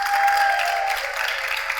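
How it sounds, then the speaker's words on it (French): Steady applause from an audience, dense and sustained for the whole stretch, fairly loud and close, with no talking over it. "on peut les applaudir encore très fort"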